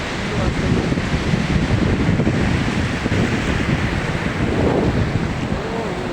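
Steady roar of surf washing in continuously at Surya Lanka Beach, Bapatla, with wind buffeting the microphone throughout.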